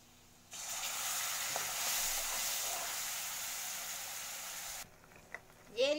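A loud burst of sizzling and hissing as sambar is poured into hot oil tempering, steady for several seconds, then cutting off abruptly with a few small clinks.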